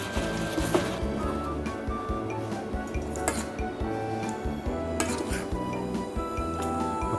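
A utensil stirs strawberries cooking in a pan, making repeated close clinks and scrapes against the metal with a soft wet squish underneath.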